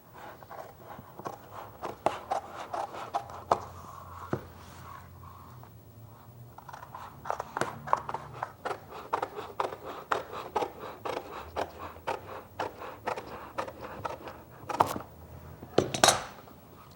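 Paper pattern for a gas tank being trimmed with scissors, a long series of close snipping cuts and light paper rustles in an irregular rhythm, with brief pauses and a couple of sharper clacks near the end.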